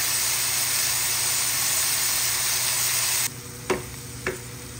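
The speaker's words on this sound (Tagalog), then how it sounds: "Igisa-gisa lang natin." Tomatoes sizzle and hiss loudly in a hot pan as they sauté with bitter gourd, the frying noise steady and close, then quieter after a few seconds, broken by two sharp scrapes of a spatula stirring.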